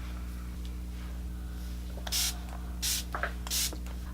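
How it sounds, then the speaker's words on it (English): Three short, sharp hisses of MAC Fix Plus setting spray misted onto a face, spaced about a second apart over a steady low hum, close and distinct. "I like to go in with MAC Fix Plus and just spritz my face"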